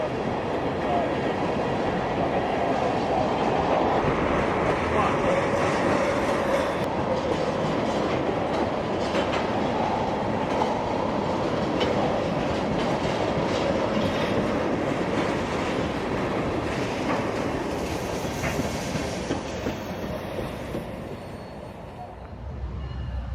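A long Union Pacific freight train of empty ethanol tank cars rumbles steadily past at close range, wheels clacking rhythmically over rail joints, with a low continuous roar that eases slightly near the end.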